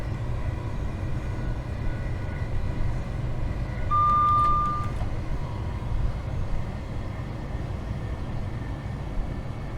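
An AWS ramp warning in a Class 387 train in Train Simulator: a single steady electronic warning tone lasts about a second, sounding over the constant low rumble of the moving train.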